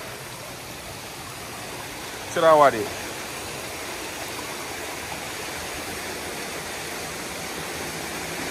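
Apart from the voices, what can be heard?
stream water at Dark View Falls, St. Vincent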